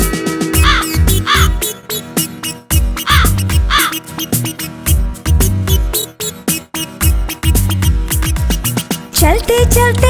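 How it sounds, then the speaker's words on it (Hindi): Cartoon crow cawing in a Hindi children's nursery rhyme, repeated caw-like calls over bouncy music with a steady beat, heard alongside singing. "कौवा भी आया"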